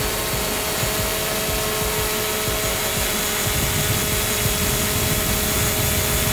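A Hubsan Zino drone flies close by, giving a continuous loud whirring buzz from its propellers with steady tonal whine and no pauses, alone without talk.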